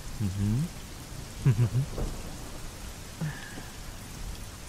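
Steady rain falls outside a home during a thunderstorm, a continuous soft hiss held at an even level, with a few low hums from a nearby voice rising briefly over it.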